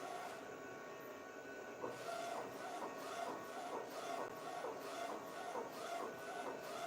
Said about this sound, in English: DTF printer where I print graphic tees, custom designs